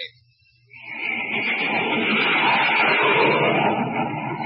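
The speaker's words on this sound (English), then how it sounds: "You're listening to the blazing roar of a jet plane." A loud, steady jet roar swells up quickly and holds as a broad, rushing drone.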